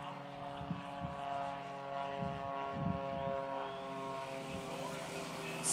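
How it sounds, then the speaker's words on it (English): A Rans S7 light aircraft's engine runs at full throttle on a takeoff run at a STOL competition, a steady, droning propeller roar that holds close and loud throughout, with faint voices now and then underneath. "Spooling it up, full throttle, tail nice and high."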